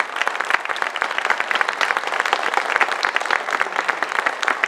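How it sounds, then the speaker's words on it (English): A crowd applauds steadily, dense overlapping clapping filling the whole stretch without a break. "join me in a round of applause thanking the candidates who are here tonight"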